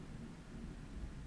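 Thunder from a storm rolls as a low, continuous rumble mixed with rain-like hiss, steady and moderately faint throughout, with no voices.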